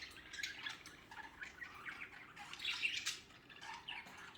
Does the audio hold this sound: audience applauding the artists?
no